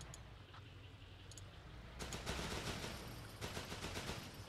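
Rapid automatic gunfire from the war video game Running With Rifles, set in the Pacific theater, crackles as dense bursts that grow louder and more continuous in the second half, with no talking.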